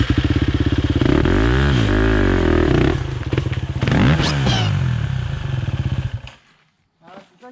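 An enduro motorcycle pulls away in first gear, its loud, close engine rumbling and revving unevenly with clattering over rough ground, then cutting out into near silence; people talk over it.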